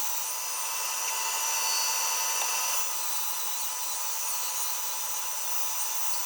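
A bandsaw hums steadily as its blade cuts through a piece of scrap wood, a continuous high whine and rasp holding nearly level for several seconds.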